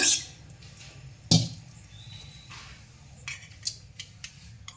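Cooled tomatoes going into a mixer jar, heard as a couple of sharp clinks and clatters of a utensil on the jar followed by lighter taps and rattles, close and without talking.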